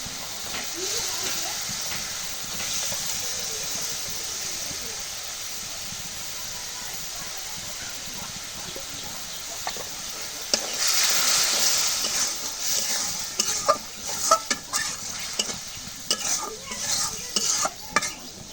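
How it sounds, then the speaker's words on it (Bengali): Masoor lentils are stirred into spice paste in a hot pan, a constant sizzling hiss that swells louder partway through, with scraping and clattering of the utensil against the pot close by. "মশলাটা কষানো হয়ে গেছে মুসুর ডালটা দিয়ে দিই"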